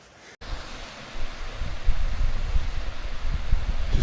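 A waterfall in full flow on Kinder Scout roars as a steady broadband rush, close and continuous, building in loudness after a brief quiet start with no voices.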